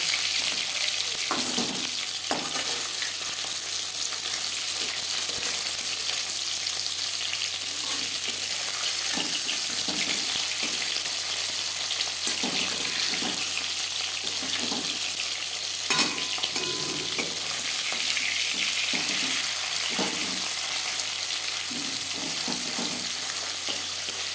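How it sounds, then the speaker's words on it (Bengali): Fish frying in a pan for a green-tomato fish curry, a steady close sizzle running throughout with repeated soft knocks and stirring noises scattered over it, with no talk. "মাছ এক পাশ ভাজা হয়ে গেছে অপর পাশ উল্টে দেবে"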